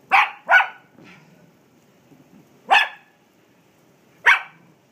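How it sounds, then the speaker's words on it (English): Dachshund barking at a crawfish: four sharp, loud barks close by, two in quick succession at the start, then two more spaced apart, with quiet gaps between. "Don't bark at it."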